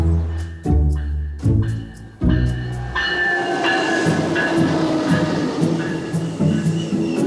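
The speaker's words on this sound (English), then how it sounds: "Ben, we're finally on a train." Steady rumbling of a moving passenger train carriage on the way to Chicago, with rhythmic clunks and rattling, loud and close, a few heavier jolts early on.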